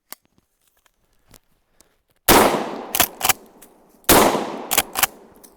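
A Winchester 1897 pump-action shotgun fires two loud close blasts, each followed by the quick double clack of the pump action, over an otherwise quiet outdoor backdrop with faint small clicks beforehand.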